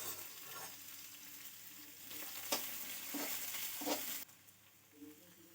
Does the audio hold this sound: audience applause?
no